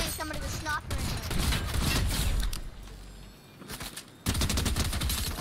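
Rapid bursts of gunfire crackle through a Fortnite match, with short volleys near the start and a dense rattling stretch at the end, while a player talks excitedly over the action.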